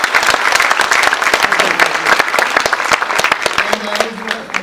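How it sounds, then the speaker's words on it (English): An audience at a gala dinner claps continuously, a dense, loud burst of applause that holds steady and then begins to thin out at the end. "please give them a round of applause"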